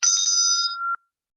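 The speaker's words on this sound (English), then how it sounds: "This one is a little ganti bell, so you can just hit it." A small ganti bell struck once, giving a bright, sustained metallic ring with a clear upper tone that hangs for nearly a second before cutting off, close and fairly loud.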